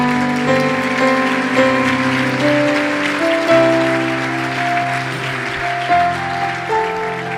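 A church congregation claps during a Spanish-language service, a steady wash of applause blended with sustained music tones throughout.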